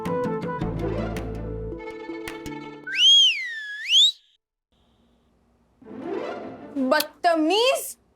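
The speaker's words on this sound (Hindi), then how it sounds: "लड़की को देख के सीटी मारते हो?" A loud two-note wolf whistle at a girl, rising and falling, sounds twice after a burst of background music and chatter, followed by more whistled chirps among the voices of people talking.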